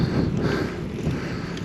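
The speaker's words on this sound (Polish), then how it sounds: "O, i wiatr w mordę," Wind buffets the microphone in a continuous low rumble, steady and close, with no voices, on the Grimsel Pass at about 2,165 metres.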